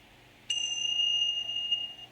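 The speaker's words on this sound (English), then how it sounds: "it's with these Tibetan bells." Tibetan bells struck once, a bright metallic ring with a sharp onset and steady, shimmering overtones that sustain loudly without fading for nearly two seconds.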